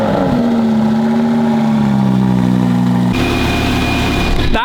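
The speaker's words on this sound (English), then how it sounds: "has put on the stock sport exhaust that comes with the car." A Lamborghini fitted with its stock sport exhaust holds a steady, loud engine drone that sags slightly in pitch, then shifts to a brighter, harsher tone before a brief rise at the end, with no voices.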